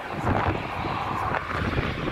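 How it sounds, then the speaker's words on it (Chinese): Airliner engine noise at Taipei Songshan Airport: a steady, loud broadband roar that fills the whole clip, with some wind buffeting on the microphone. "刚刚有飞机要走"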